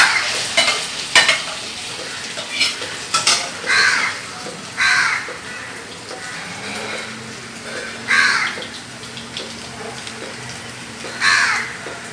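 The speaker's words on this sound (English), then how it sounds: "now I'm going to fry this to make the filling" Prawn paste filling fries in oil with a steady sizzle, broken by stirring scrapes and loud crow caws outside.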